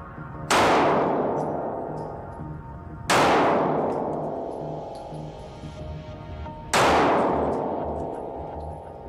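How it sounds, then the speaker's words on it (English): Three loud, sharp gunshot impacts on bullet-resistant glass at regular intervals, each a cracking bang with a ringing decay that fades over a couple of seconds. "let's see how bullet-resistant glass and security window film protect against gunfire"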